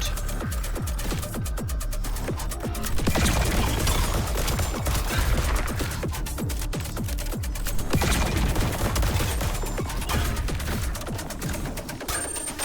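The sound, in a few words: gunfire in the video game Void Breaker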